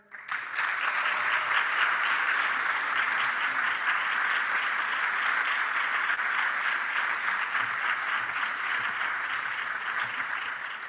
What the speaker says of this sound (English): Will you give a round of applause for Dr. Mosby Tyler?